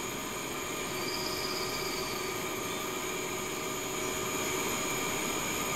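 Continuous steady rumble and hum inside a train cab in the SimRail 2021 railway simulator, an even interior drone with faint high tones and no talking.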